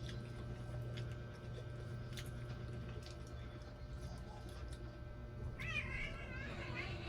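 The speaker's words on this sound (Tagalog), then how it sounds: "Nanggahasa na naman tong pusa na to, oh." A cat gives a short wavering meow near the end, heard over steady background hum and indoor noise during a meal.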